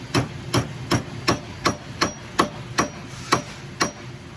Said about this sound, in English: It's less stressful if I beat this jaw over. So I'm just going to beat it over.